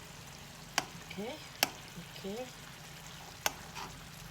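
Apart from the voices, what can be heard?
fish stewing in a pan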